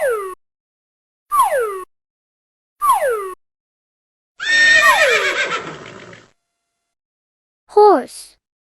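A single loud, drawn-out horse neigh with a falling, shaking whinny stands out between short, sharp chirping sweeps that come at regular gaps.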